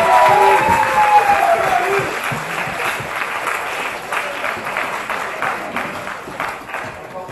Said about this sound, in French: Puis on va applaudir pour eux.